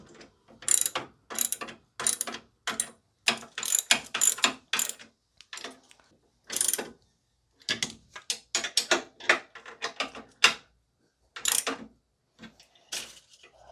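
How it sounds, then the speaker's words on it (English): Ratchet wrench tightening frame bolts on a 1971 Chevelle front coilover, close and crisp in repeated bursts of rapid clicking separated by short pauses, with no talk. "Now I need to tighten these bolts that go into the frame, and I'm going to do that back and forth until it's tight"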